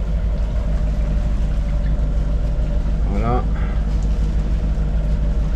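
A sailboat motors along under engine power on a crossing from Ajaccio to the Lérins islands, with a steady, loud engine drone and water noise throughout while someone speaks briefly in French.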